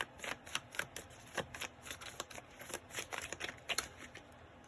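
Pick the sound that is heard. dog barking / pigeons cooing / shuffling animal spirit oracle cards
shuffling animal spirit oracle cards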